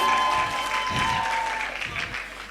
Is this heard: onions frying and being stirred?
no